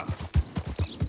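Horse hooves clip-clopping at a steady trot while riding in Red Dead Redemption 2, about six even low thuds per second, close and clear with no talk over them.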